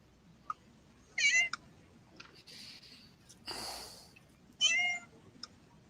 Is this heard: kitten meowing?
yes